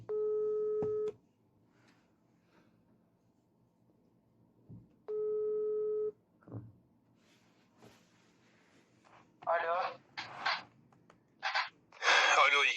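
Two long electronic ringback tones, each about a second, separated by a pause, then a quiet gap before a voice starts speaking.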